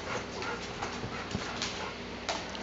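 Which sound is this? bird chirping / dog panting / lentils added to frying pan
dog panting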